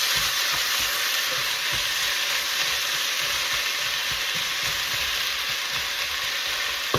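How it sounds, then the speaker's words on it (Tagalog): Sliced chicken breast seasoned with salt and pepper frying in a pot, a loud continuous hissing sizzle that holds evenly from start to finish, with no talk. "So now I'm going to add the chicken breast."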